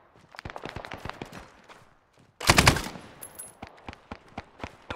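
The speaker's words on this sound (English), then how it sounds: "We just got shot at from that direction, over." Gunfire in Arma 3 during a team-versus-team firefight: rapid sharp shots crack in quick succession, with a dense, loud burst in the middle and scattered single reports after it. No one speaks.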